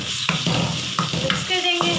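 Boiled potatoes mixed into sago khichdi in a pan, a close sizzling base broken by four or five rhythmic spoon scrapes and stirs over two seconds, no voices.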